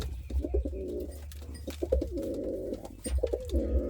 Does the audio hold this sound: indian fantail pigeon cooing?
yes